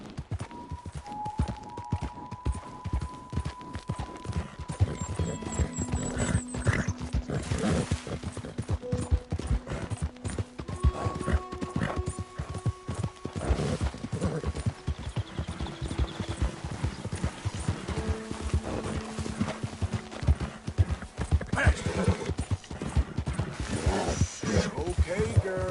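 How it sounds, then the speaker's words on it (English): Horse hooves clip-clop steadily in the video game Red Dead Redemption, a continuous rhythmic trot of sharp hoof strikes running the whole way under game music and occasional voices. "Hey, that's a nice-looking horse you have there."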